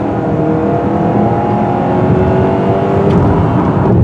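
Turbocharged four-cylinder engine of a 2022 Kia Sorento X-Line pulling under steady acceleration, a continuous droning hum with a rising whine, heard from inside the cabin without any talk.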